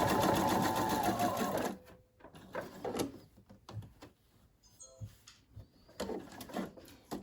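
A sewing machine runs steadily, stitching across a fabric seam for about two seconds before stopping, followed by quieter handling clicks and rustles of the cloth.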